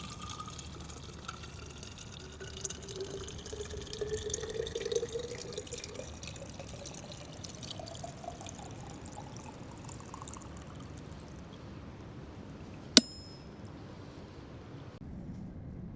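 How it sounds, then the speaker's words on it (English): Water running from a tap at a Red River Gorge, Kentucky campsite while a container fills, a steady wash whose pitch rises as the vessel fills, then a sharp clink near the end before it stops. "Gonna go fill up water."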